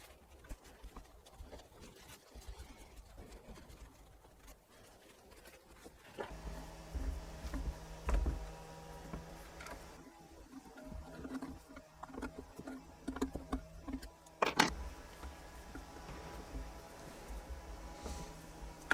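A faint, steady petrol power tool engine drone hums far off in the background, with scattered nearby rustles and knocks over it.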